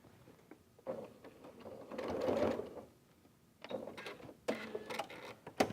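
A domestic sewing machine stitching fabric over pins while making a purse, its motor whirring in short bursts of rapid stitching separated by quiet pauses, close and moderately loud.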